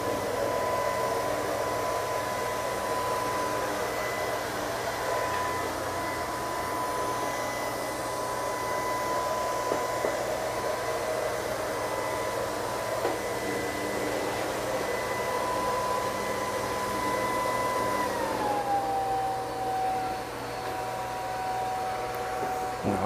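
An LG R9 robot vacuum cleaner hums steadily while cleaning a house, with a constant whirring drone and a faint high whine that dips slightly in pitch near the end, fairly quiet.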